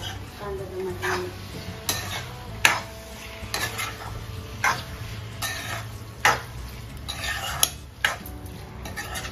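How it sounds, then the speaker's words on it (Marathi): Prawns being sautéed with onion and tomato in a pan for a Malvani fish curry, with repeated sharp spatula scrapes and clanks against the pan over a low sizzle, close and rhythmic, no speech. "परतून घेऊया कांदा टमाट्याने."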